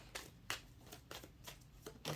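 A deck of cards is shuffled in quick repeated riffles, several sharp rustling bursts spaced irregularly, close and fairly quiet, with no voices.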